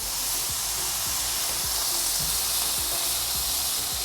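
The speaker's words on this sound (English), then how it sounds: "You hear that sizzle?" Steady, close sizzling fills the whole clip, a dense bright hiss with faint scraping taps underneath, as a smashburger patty fries on a Pit Boss Charleston flat griddle.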